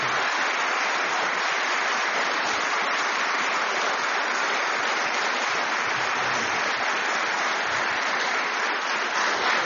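Sustained, dense applause from a lecture audience fills the room steadily without pause after a talk on Abraham Lincoln's education.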